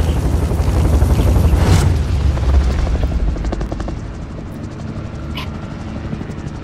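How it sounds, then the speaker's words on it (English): A helicopter in a multiplayer shooter video game: loud, steady rotor thumping and engine roar that fades slightly toward the end, with faint game effects and no talking. "I'll get the chopper."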